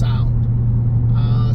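V8 car engine idling with a deep, steady low rumble, close and continuous, briefly under a voice.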